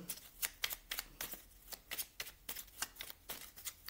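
Tarot cards being shuffled during a guidance reading, producing a steady series of crisp riffling bursts, about a dozen close-up snaps in rhythmic succession with no voices.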